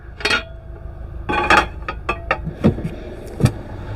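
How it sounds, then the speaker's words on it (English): A cooking pan set on the stove inside a motorhome, with a few metallic clanks, clinks and knocks spread out and close by, and no talking. "So now I'm going to get my pan on the go"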